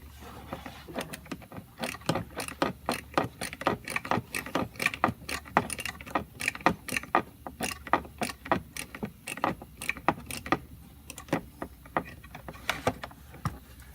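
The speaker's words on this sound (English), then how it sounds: "Using a small ratchet is a lot easier than a big ratchet." A small hand ratchet loosens a bolt on a Chevrolet Silverado or GMC Sierra-type truck, making rapid, rhythmic clicking bursts of pawl ticks repeated steadily at close range, with faint clanks between strokes.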